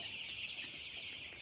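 Chickens on a poultry farm keep up faint, soft clucking from some distance, a quiet continuous murmur of fowl with no voices.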